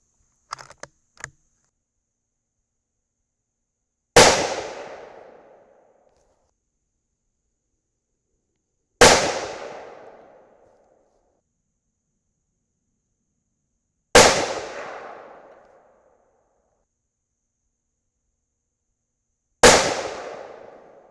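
A rifle fitted with a DPMS Miculek muzzle brake fires four loud, sharp shots spaced about five seconds apart, each ringing briefly, after a few faint clicks at the start.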